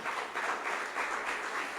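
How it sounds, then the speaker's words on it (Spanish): A church congregation gives a brief burst of steady applause, fairly faint and evenly sustained with no voices standing out. "Dale un aplauso al Señor,"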